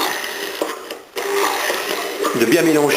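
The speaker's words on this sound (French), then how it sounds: "commencer avec la vitesse la plus lente du mixeur et de mélanger" An electric blender runs at its lowest speed, mixing aioli ingredients with oil, giving a steady, fairly loud whirring hum that shifts slightly near the end, with a voice speaking over it.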